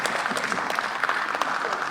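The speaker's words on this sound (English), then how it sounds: "especially those who are clapping now" Applause in a parliamentary chamber, a short burst of dense, steady clapping from a crowd of members, loud and continuous throughout with no pauses.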